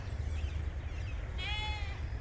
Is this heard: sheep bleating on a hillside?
yes